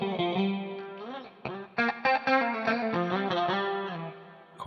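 A guitar runs through a Marshall-style amp tone with a modulation effect, playing a short phrase of sustained chords and single notes with chorus-like shimmer, alone and fairly close.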